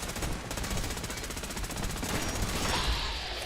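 Rapid gunfire in Fallout 4, a sustained stream of fast, evenly spaced shots that is loud and continuous for the whole stretch with no pauses.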